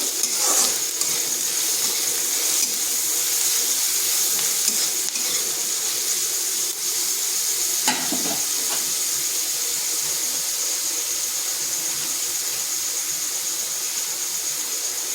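Grated garlic and two green chillies fry in a pan, a steady close sizzle that runs throughout with a few faint stirring scrapes and no voices.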